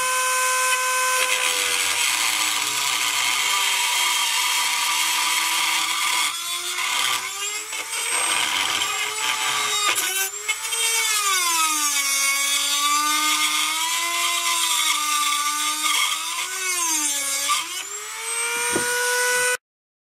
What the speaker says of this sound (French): j'ai pris avec une pierre, je suis en train de limer la tête de vis